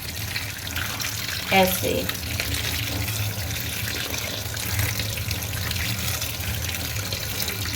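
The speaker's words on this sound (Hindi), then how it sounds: "अब इसके ऊपर ठंडा पानी ऐड कर देंगे" Cold tap water runs and splashes over boiled mutton in a basket strainer, a steady moderate stream under one brief spoken word.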